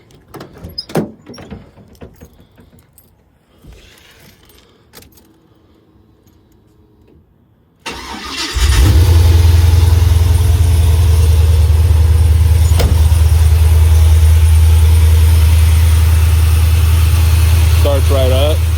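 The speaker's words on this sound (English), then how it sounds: "Starts right up like a LS should" An LS V8 swapped into a G-body Cutlass cranks and fires up, settling at once into a loud, steady, deep idle close by. A few clicks and light handling noises and some speech come first.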